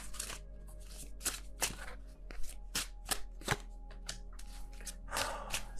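Tarot cards being shuffled by hand, a run of crisp riffling bursts and soft taps repeating irregularly, fairly quiet and close.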